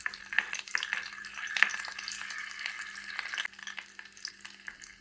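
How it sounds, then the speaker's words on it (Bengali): Dried red chilies and garlic crackle and spit in hot mustard oil in a small pan on a clay stove, with sharp popping bursts over a soft, steady sizzle. "শুকনা মরিচ আর রসুন ভেজে নিব।"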